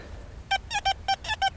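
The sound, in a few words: XP Deus 2 metal detector squeaky target signal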